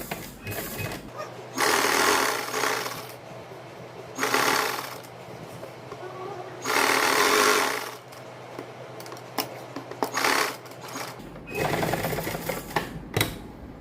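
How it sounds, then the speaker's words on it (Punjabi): A sewing machine stitches a neck design along buckram in several bursts, loud and close, with quiet pauses and small handling clicks between runs. "ਇਸ ਵਾਰ ਦੂਜੀ ਸਾਈਡ ਵੀ ਆਪਾਂ ਇਸ ਸਲਾਈ ਲਾ ਦਾਂਗੇ ਬੁਕਰਮ ਦੇ ਨਾਲ ਨਾਲ ਸਲਾਈ ਲਾਵਾਂਗੇ"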